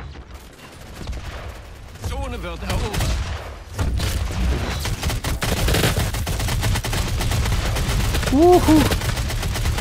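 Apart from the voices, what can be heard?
gunfire in the video game DOOM 4 multiplayer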